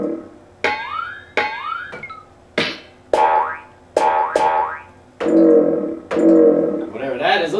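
A series of springy cartoon boings, several bouncy pitch-bending twangs in a row with short gaps, loud and close, with no one talking.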